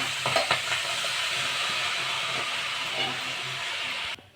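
Bottle gourd pieces go into a hot wok for a prawn lau shukto, giving a burst of clattering then a steady loud sizzling hiss that continues before cutting off abruptly.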